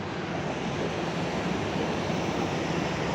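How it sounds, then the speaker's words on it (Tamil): Sea water surging below Infinity Bridge in Dubai, a continuous broad wash of waves mixed with wind rush, loud and steady for the whole stretch with no voices. "கீழே பாருங்கள் கடல் தண்ணி"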